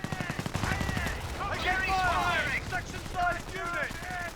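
Machine gun fire in the World War II strategy game Company of Heroes: rapid, evenly spaced bursts open the clip, followed by battle noise that continues beneath someone talking.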